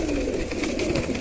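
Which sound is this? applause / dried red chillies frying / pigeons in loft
pigeons in loft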